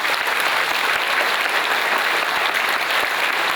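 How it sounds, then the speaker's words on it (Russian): Audience applause at a congress of the Gagauz People's Union movement, a steady, dense crowd clapping with a few sharper claps standing out, filling the whole moment without speech. "Не забываем приветствовать всех аплодисментами и вашими флагами и стягами"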